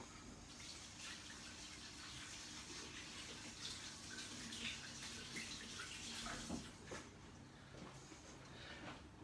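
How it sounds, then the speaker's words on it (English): A kitchen tap runs steadily for hand washing, a continuous soft gush of water with small splashes and shifts in flow toward the end, quiet and close, no talking. "now I'm going to wash my hands."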